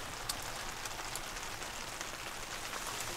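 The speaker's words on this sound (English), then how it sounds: "the cover allows me a nice dry place to work while it's raining outside" Rain falls steadily on the cover over a sawmill, a dense even hiss of drops with occasional slightly sharper patters, close and constant throughout.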